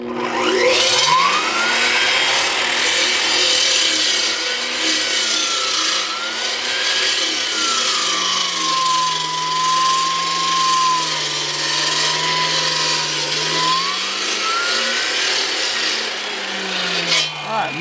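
A power saw trims and straightens a cut in wood during a barn house build, a loud close whine whose pitch rises, dips and wavers steadily as the blade works through the timber.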